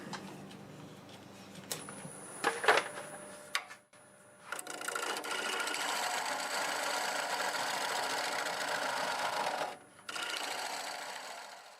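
Siberian elm crotch wood turns on a lathe as the tool cuts the inside opening, giving a steady whirring, scraping drone with brief pauses and a few sharp knocks near the start.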